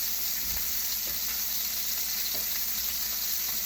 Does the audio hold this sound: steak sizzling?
yes